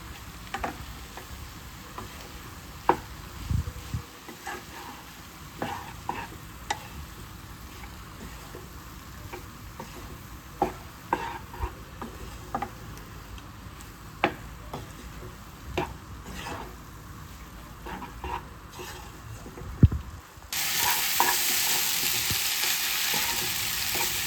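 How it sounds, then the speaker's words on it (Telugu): Masala pasta with vegetables is tossed and stirred in a hot pan, a continuous close sizzle broken by frequent scraping ticks and clinks, ending in a louder, brighter burst of frying. "మసాలాలు వెజిటేబుల్స్ బాగా పాస్తాకి పట్టేలాగా బాగా టాస్ చేసేసుకోండి."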